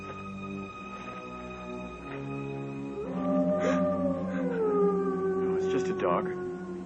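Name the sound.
dog howling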